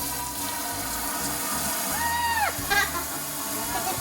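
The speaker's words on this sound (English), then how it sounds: "I'm gonna start rinsing Ava's hair" Running water from a tap rinsing a young girl's hair during wash day, a continuous steady splashing hiss close by with small squeaky tonal chirps partway through.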